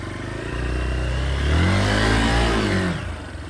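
A motorcycle engine revs up while riding through a local area, its tone climbing and holding loud and close before easing off near the end, with no talk.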